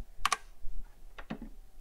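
Computer keys are pressed for a keyboard shortcut: a quick pair of sharp clacks, then a pause and a few softer key taps, close and clear in a quiet room.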